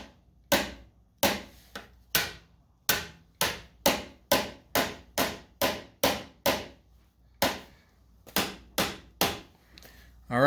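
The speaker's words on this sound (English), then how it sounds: "I hit it with a hammer." A ball-peen hammer strikes a metal skid plate fitted to a Rad Rover electric bike, about seventeen sharp, close blows in an uneven but steady rhythm with brief ringing decays between them.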